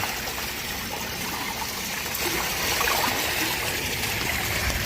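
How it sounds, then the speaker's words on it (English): Swimming pool water stirred up by hand or a pool brush, a continuous close wash of swirling, trickling water that swells slightly partway through, with no voices. "I'm just going to stir things up a little bit. and then brush the bottom."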